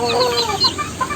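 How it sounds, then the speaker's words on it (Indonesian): An ekor lidi chicken, a small bantam kept at a home, clucks in a short burst of soft throaty notes close by, with no talking. "Nah, ini ayam ekor lidi saya ya."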